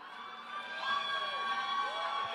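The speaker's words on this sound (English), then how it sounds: "Can we give another round of applause for Aki" A crowd at a Seattle crowning ceremony cheers for Aki, with rising voices and whoops rather than distinct clapping, held at a fairly low level for a couple of seconds.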